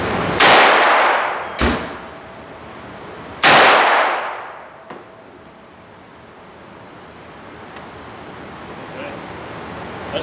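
A Ruger Security Six revolver fires .38 Special rounds outdoors, two loud sharp shots with a lighter crack between them, each followed by a short ringing echo that fades into quiet background noise.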